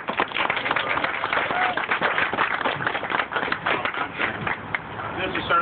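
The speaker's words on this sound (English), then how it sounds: "Let's give a big, big round of applause to Ryan, Eric, and Jim for making this day possible" Crowd at a city grand-opening ceremony for a reopened confectionery, giving a long, steady round of applause with dense overlapping claps and scattered cheers throughout.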